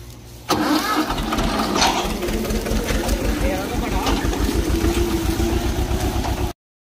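A Swaraj 724 tractor engine runs in gear, its loud steady diesel chugging pulsing in a rapid rhythm close by after a sudden start, continuing without a break until it cuts off at the end.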